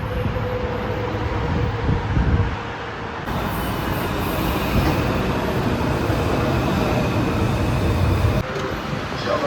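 A metro train rumbles through a metro station with a steady, loud roar of wheels and rail noise, a sharp shift in tone partway through as the train moves, no voices present.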